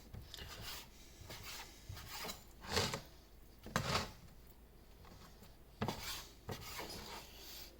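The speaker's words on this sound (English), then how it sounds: "I have some thinly sliced beef here. I'm just going to cut into slices here, just random slices" A knife slices thinly cut beef on a board in quiet, repeated rasping strokes, a few sharper cuts standing out at irregular intervals.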